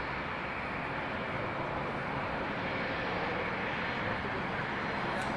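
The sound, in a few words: airliner arriving at Toronto Pearson Airport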